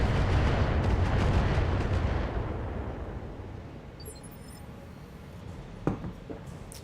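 Weapons fire at turrets in the Battletech video game, opening with a loud, dense rumbling barrage that slowly fades, followed by a few fainter sharp pops near the end.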